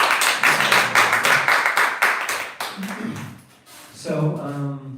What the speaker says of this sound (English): Can we get a round of applause for him?